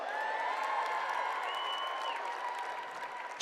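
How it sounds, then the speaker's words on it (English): Applause from a crowd for a newly engaged couple at a Keller Williams Family Reunion event, a soft, distant wash of clapping with a few whoops and cheers rising above it, ending in a sudden louder burst. "Give them another big round of applause."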